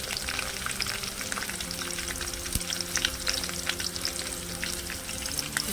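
Peanuts fry in hot oil for tamarind rice, a close, continuous crackling sizzle with dense popping spatters throughout and no voices.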